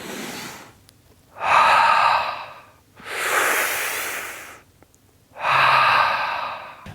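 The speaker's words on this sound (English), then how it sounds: "Breathing." Three slow, audible breaths, each a long airy inhale or exhale of about a second and a half, close to the microphone with quiet pauses between them.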